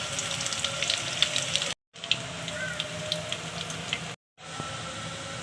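Crushed garlic frying in hot mustard oil, a steady close crackling sizzle that cuts out briefly twice before carrying on.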